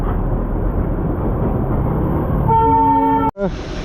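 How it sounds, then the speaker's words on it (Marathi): A short toy train horn toot blares over steady rumbling background noise in Darjeeling, followed by a sharp thump, sounding fairly close. "तर पाहू शकता ही टॉय ट्रेन"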